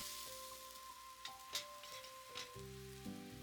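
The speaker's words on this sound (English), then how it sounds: "I lift the egg and spread the mixture below the egg and move the pan to cook it entirely." A thin egg mixture sizzles steadily in a pan while making rolled maki sushi, a soft continuous frying hiss with light scraping as the egg is lifted and the pan moved, no talking.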